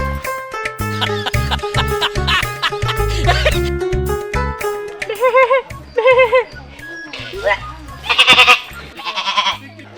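Goat bleating in a Bengali comedy drama, with several wavering bleats in the second half over a busy backdrop of voices and music.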